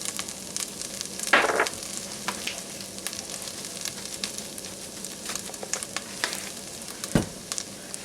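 Flour, salt and pepper cooking into a roux in a pan, a soft, steady sizzle with occasional scraping and stirring clatters, fairly close, with no talking.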